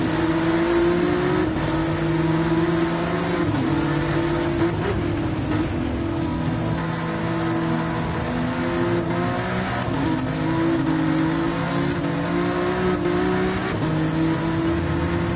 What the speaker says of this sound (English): And listen to this beautiful engine.